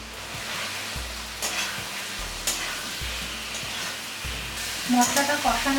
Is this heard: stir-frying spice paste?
yes